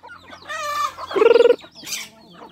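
Chickens cluck in a mixed poultry yard that also holds geese and turkeys. Several near, throaty calls lead into a loud, rapid pulsed burst of clucks, then a shorter higher cry.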